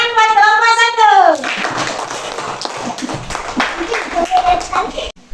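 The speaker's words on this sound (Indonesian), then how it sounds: "Oke, tepuk tangan buat kelompok" A school class claps for a group of students after their presentation, with a voice and children's talk at the start, then a burst of close, uneven hand claps that thins out toward the end.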